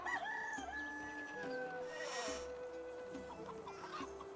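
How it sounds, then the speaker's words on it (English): Roosters crow and hens cluck around a hen house in the village of the video game Medieval Dynasty, several long crowing calls rising and falling over a steady farmyard background, fairly close and with no talking. "So we got some hens and some chickens here, some roosters."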